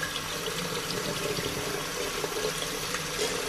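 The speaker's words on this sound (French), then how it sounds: "je vais essayer de les rincer" Pompoms are rinsed under a running tap, a steady broadband rush of water pouring into a sink that stays even and fairly loud throughout, with no voices.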